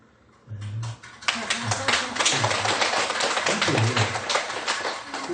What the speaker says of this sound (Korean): 박수도 쳐줘야지